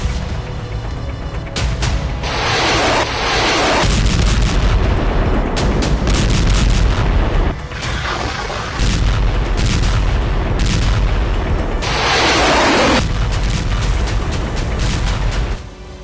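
A Msta-S self-propelled gun fires in a war zone, with several heavy, loud booms spaced a few seconds apart, each followed by a rumbling roll.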